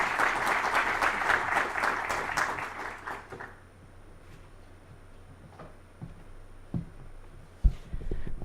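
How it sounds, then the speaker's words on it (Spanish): Audience applause after a seminar talk on seismology in Chile rings out as dense clapping for about three seconds, then dies away into quiet room noise with a few scattered knocks. "damos un gran aplauso entonces a nuestra expositora, Lorena Valderrama"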